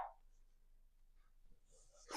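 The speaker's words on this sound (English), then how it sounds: "If you can hear the dogs barking" Dogs bark at home, faint and a little distant, in two short bursts at the very start and again near the end, with quiet room tone between.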